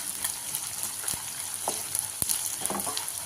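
Edible gum (dink) fries in hot ghee, giving a close, steady sizzle and crackle with a few sharp pops and stirring scrapes.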